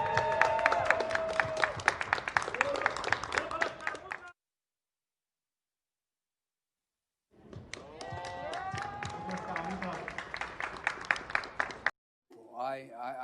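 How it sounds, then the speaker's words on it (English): Applause from a crowd at a political rally in East Las Vegas, a dense wash of clapping in two bursts split by a few seconds of silence, with voices and cheers mixed in. "let's do one more round of applause for our VP being here in East Las Vegas"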